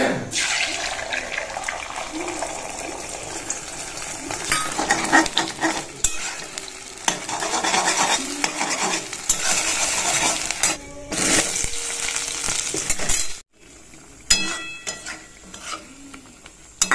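Egg frying in a pan for a potato curry, a steady loud sizzle with stirring and scraping throughout, briefly cut out near the end before resuming.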